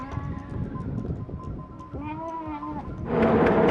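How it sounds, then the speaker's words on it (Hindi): A flock of about 300 sheep and goats near Bikaner bleats in overlapping, wavering calls, close and fairly loud, with a denser chorus swelling toward the end. "टोटल कितनी भेड़ बकरियाँ? 300 टोटल गिन के।"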